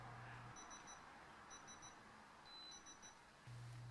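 Quiet electronic beeps from a digital torque wrench during an oil change sound in short clusters, high and thin, repeating at intervals against a faint background hiss.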